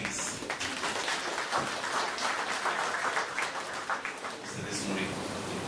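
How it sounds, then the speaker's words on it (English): Audience applause at a groundbreaking ceremony for a new maternity facility in Fiji, a steady outdoor clapping wash lasting several seconds, moderately loud and even. "applause, please"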